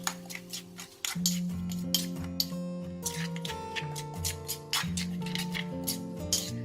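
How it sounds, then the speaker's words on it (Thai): A spoon clinks and scrapes rapidly around a bowl, stirring a lime and salt dipping sauce to dissolve the salt, with quick repeated close taps over soft tonal background music. "คนให้เกลือละลายค่ะ"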